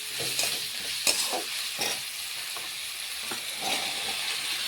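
Cut yardlong beans fry with spices in a pan, a constant bright sizzle broken by several scraping stirs of a spoon, fairly close and without speech.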